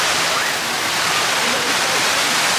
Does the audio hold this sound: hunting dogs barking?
no